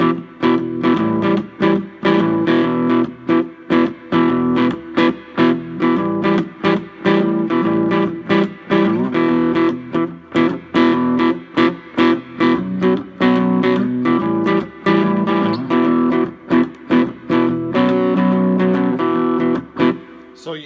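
Distorted cigar box guitar playing a blues riff that moves to the 4 chord, with loud, close, rhythmic strummed notes repeating steadily and continuously.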